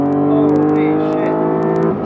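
A sports car accelerates hard through high-speed sweeping corners, its engine holding a loud, steady droning note that climbs slightly before easing off near the end, heard from inside the car with some voice mixed in.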